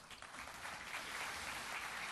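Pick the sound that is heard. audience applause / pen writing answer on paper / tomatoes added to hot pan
audience applause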